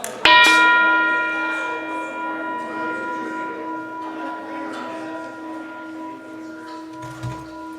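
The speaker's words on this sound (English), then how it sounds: "We usually ring the bell to remember those who came before us." A church bell rings once at a Sunday morning worship gathering, striking sharply and then sustaining a long, slowly fading hum of overtones that fills the room, with a soft knock near the end.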